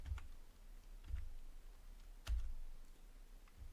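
Keys clack on a computer keyboard in a few scattered, quiet taps and short bursts over a faint room hush.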